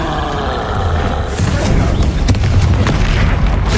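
Bombarda spell explosion during combat in the video game Hogwarts Legacy, a loud booming blast with rumbling low end and crackling debris, amid continuous dense game sound.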